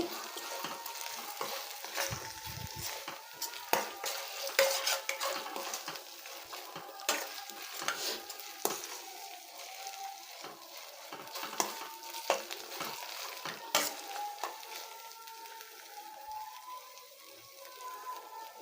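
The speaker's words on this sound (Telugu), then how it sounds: "చూసారు కదా, మన అల్లం చిన్నులపాయ పేస్ట్ అయితే వేగిపోయిందండి" Ginger garlic paste fries in a pan, giving a soft, continuous sizzle with crackles and the scrape of stirring, heard alone with no voices.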